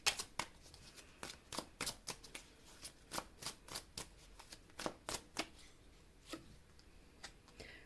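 Tarot cards are shuffled and handled in a soft, quick, irregular run of crisp flicks and taps, close and quiet, continuing for several seconds with no voice over them.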